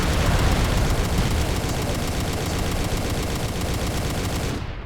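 Sustained rapid AC-2 autocannon fire from a mech in MechWarrior: Living Legends, a dense, loud, continuous stream of overlapping shots that holds steady for nearly five seconds before tapering off at the end.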